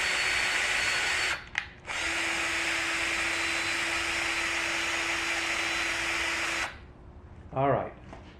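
Power drill turning a tap to chase threads in tapped holes on a combat robot part, a steady close whine running for several seconds with a brief break, then stopping.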